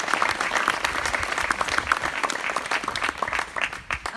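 Wedding guests in Tuscany applaud together, a lively burst of many hands clapping at close range, with a few scattered crowd noises mixed in as it tapers near the end.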